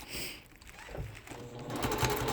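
Sewing machine stitching scrappy heart quilt block pieces one at a time, a steady close whirring hum that continues through the whole stretch without talk.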